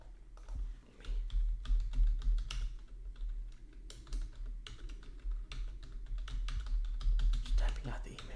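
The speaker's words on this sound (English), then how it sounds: "Just typing out the email for you a little bit." Steady typing of an email on a computer keyboard, close-up and continuous, with quick clustered key taps and a soft voice speaking between them.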